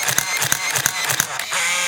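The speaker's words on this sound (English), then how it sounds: "if I just hold the shutter button down, it'll just keep rapidly advancing and taking more pictures." A film camera fires continuously with its shutter held down, the motor rapidly advancing the film in a steady, evenly spaced run of about six sharp mechanical click-whirr cycles, close and loud.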